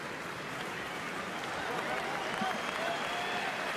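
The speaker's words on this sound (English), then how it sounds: "And Kennedy has replaced captain John Terry, who gets an awful lot of applause from spectators all around the ground, regardless of whether they're Chelsea or Wo" Steady applause from a large football stadium crowd at a Chelsea friendly match, broad and distant-sounding, sustained throughout with murmuring voices mixed in.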